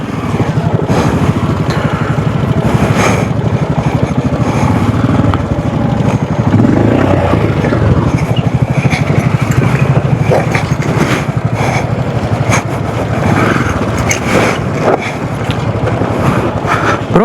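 A Royal Enfield Scram 440 motorcycle rides down a muddy hill trail with its engine running throughout, loud and close, mixed with heavy wind buffeting on the microphone.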